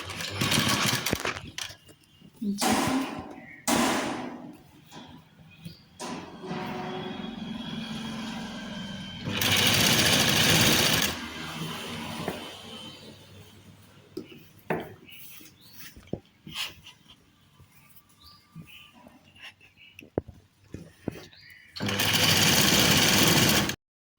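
Sewing machine stitching cut work, several loud close bursts of fast whirring stitching separated by quieter handling clatter and pauses.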